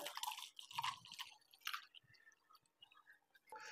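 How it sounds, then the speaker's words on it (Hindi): Water is poured into a container while building a homemade high-voltage capacitor, giving quiet, close trickling and splashing bursts separated by short pauses, with a final splash at the end. "इसके अंदर हम थोड़ा पानी डाल देते हैं"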